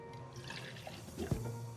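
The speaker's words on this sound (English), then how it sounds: "We're just gonna pour just like 100 milliliters of this one" Liquid is poured slowly while mixing a pretend princess potion, about 100 milliliters going into a container, a soft close trickle with a few small splashes and drips rising toward the end.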